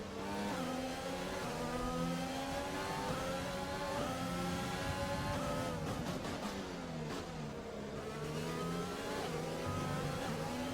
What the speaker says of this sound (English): there goes Ocon on by in the Renault